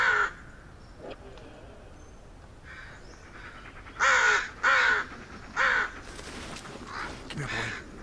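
Crows in the horror video game Blair Witch give several harsh caws, three loud ones bunched together midway and fainter calls around them, over a low ambient game backdrop.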